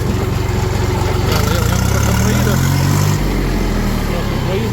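A diesel tractor engine, an RD-244, runs steadily up close with a low, rumbling idle that rises briefly as it revs, then settles again.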